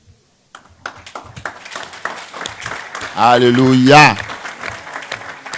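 A congregation claps rhythmically during a church service while a voice loudly calls out an acclamation above the clapping.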